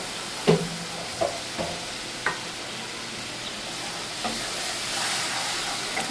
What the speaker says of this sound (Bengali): যতক্ষণ মশলার উপর তেল উঠে আসছে ততক্ষণ মশলাটা কষিয়ে নেব